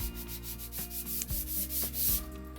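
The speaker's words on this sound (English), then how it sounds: "I'm only showing you a little bit of the footage of me sanding" Orbital sander working over oak antique furniture, a soft continuous whirring rub with rhythmic passes, close and fairly quiet, with no voices.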